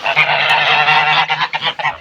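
Several Mammoth geese honk together, loud and close, a dense burst of nasal calls that breaks into shorter choppy honks toward the end.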